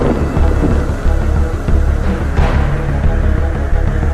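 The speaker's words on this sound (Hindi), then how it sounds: "तेज आंधी शुरू हो गई।" Strong storm sound effect in a Hindi moral story: dense, loud rumbling thunder and roaring wind, continuous and close, with no voices.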